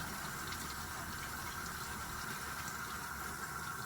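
Hot tap water runs steadily while a 90-year-old cast iron pan is cleaned in a kitchen sink, a constant, fairly faint rushing hiss with no talk.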